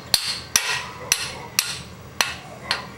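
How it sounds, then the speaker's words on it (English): Six sharp, evenly spaced hammer blows ring out as a bicycle bottom bracket is driven into place, each strike metallic and close with a short ringing decay. "hammer it through"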